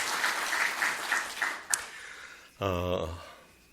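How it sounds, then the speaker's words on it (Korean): Church revival congregation claps in thanks for the deacons who led and gave a special performance, a broadband patter of applause fading before a single voice begins speaking near the end. "우리 감사의 박수 한번 보낼까요?"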